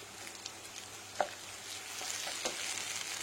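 Onions and tomatoes fry in a pan with a steady, close sizzle, broken by a few soft stirring clicks, with no talking.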